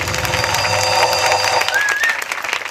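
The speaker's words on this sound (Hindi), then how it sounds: "एक बार ताली हो जाए।" Audience applause at a 2019 Christian convention in Bindhanpali, Odisha, a dense, steady wash of clapping from a crowd that holds for a few seconds and thins slightly toward the end.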